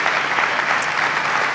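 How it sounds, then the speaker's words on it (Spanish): Church congregation applauding after a sermon, a dense, steady burst of many hands clapping at once, loud and close throughout. "un aplauso a nuestro hermano Nate."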